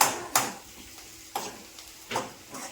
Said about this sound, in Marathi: इकडं फोडणी मारतात